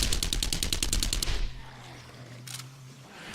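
A submachine gun fires a rapid burst in the zombie survival game 7 Days to Die, loud and close for over a second. A single short crack follows a moment later over a low hum.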